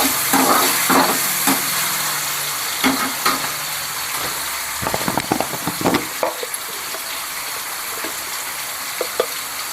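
Curry leaves sizzling in hot oil in a pan while cooking Tamil-style hotel egg kurma, a steady crackling fry with scattered sharper pops and stirring clatter close by, no talk.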